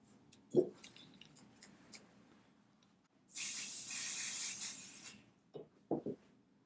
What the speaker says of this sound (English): I'll add more basting spray to the back of this.